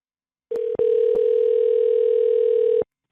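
Telephone tone after dialing an 866 toll-free number, a short steady tone that breaks briefly and then holds loud and clean for about two seconds before cutting off, with no talk over it.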